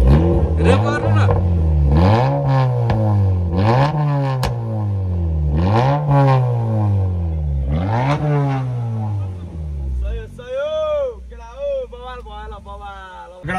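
A car engine fitted with an aftermarket exhaust silencer worth Rs 40000 revs loudly and repeatedly in close, rising-and-falling surges, then drops to a quieter idle as someone speaks near the end.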